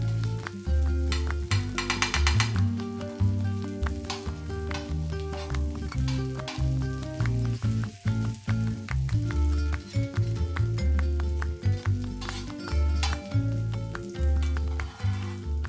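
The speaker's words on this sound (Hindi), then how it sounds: "इस वक्त मैं इसमें डाल दूंगी 2 टेबलस्पून भर के अदरक लहसुन का पेस्ट, और इसे भी मिक्स करके पकाएंगे" Chopped onions fry with ginger-garlic paste in a pan for pav bhaji, giving a loud, continuous close sizzle broken by repeated scraping and clanking from a stirring spoon; no one speaks.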